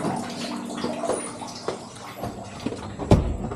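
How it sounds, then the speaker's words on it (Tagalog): A slow stream of water fills a container with a soft, steady trickle and gentle splashing, punctuated by a few brief knocks and clunks close by. "Hinay bitawsan ang tubig para pagbalik na ko unya puno na."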